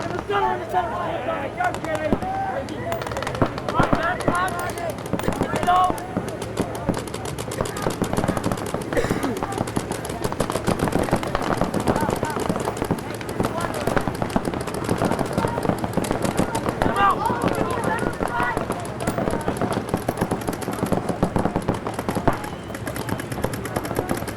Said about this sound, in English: Brian Benini makes his move and gets shot from the middle